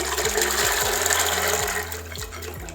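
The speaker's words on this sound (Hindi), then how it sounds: "जिस पानी में हमने चनों को भिगोया था वो पानी भी हम इसके साथ ही डाल देंगे" Soaking water from black chickpeas pours into a cooking pot, a steady gushing splash of liquid that runs continuously and eases slightly near the end, with no voices.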